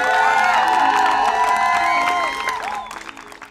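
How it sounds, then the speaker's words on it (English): Crowd cheering, whoops and applause for the Heard 'Em Say Youth Arts Collective from Music Box Tampa Bay, loud and sustained, with children's shouts mixed in, then tapering off toward the end. "Please give them a round of applause."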